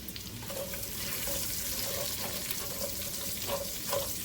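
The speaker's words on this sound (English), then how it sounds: "I'm adding 3 celery stalks that have been chopped up, and 2 carrot sticks that have been sliced" Chopped celery stalks and sliced carrot sticks sizzling in a pot of Mulligan stew over medium-low heat, a steady close hiss with faint clinks and stirring scrapes throughout.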